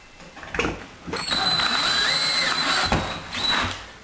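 A power drill drives screws to fix a brass shower valve rough-in in place, whirring in two close bursts with a brief stop and restart in between.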